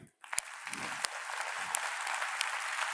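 Audience members on one team applaud in unison during a live event. The clapping is sustained and fairly loud after a brief pause, with a few sharper individual claps standing out from the crowd.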